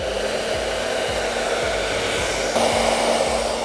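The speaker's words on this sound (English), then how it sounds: "I'm going to turn on the dryer" A hair dryer blows steadily and loudly while a puppy is dried after its bath, with a faint rhythmic pulsing under the airflow and a brief rise in pitch partway through.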